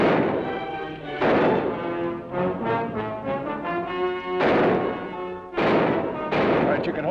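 Loud booming gunshots in a western TV show, several heavy blasts separated by ringing, echoing decay and a sustained tonal swell between them, with no voices over them.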